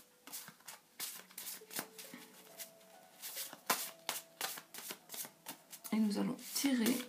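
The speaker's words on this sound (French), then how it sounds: "Je coupe quand même, j'aime bien." Tarot cards shuffled close up in a run of quick, crisp riffling bursts and soft taps, with a brief voice heard near the end.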